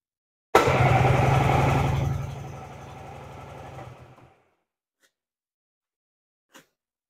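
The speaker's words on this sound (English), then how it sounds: "got the tester in, and we're going to use the electric start," Yamaha Phazer snowmobile engine cranking on its electric starter with a compression tester fitted, a loud rapid chugging rhythm for about three seconds that slows and fades, followed by silence and a couple of faint clicks.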